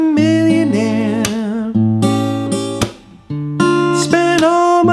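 An acoustic guitar plays the verse of a song, strummed chords ringing over a walking bass line, close and loud, with a short pause midway before it resumes.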